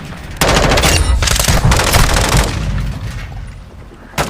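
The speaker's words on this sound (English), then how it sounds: "Now, I'll put it into full auto for you guys." Automatic rifle fire in Call of Duty Modern Warfare 2, a loud sustained full-auto burst of rapid shots lasting several seconds before tapering off, with one more shot at the end.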